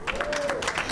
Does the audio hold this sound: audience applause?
yes